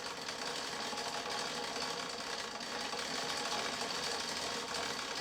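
A spinning reel winds fishing line onto its spool, giving a steady, close whirring churn that runs without a break and with no voices.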